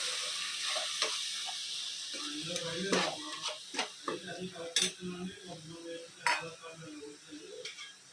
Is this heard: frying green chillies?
yes